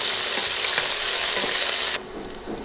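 Sliced onions frying over medium heat in a pan make a loud, dense, continuous sizzle for about two seconds. The sound then drops to a softer crackle as they are stirred. No voices.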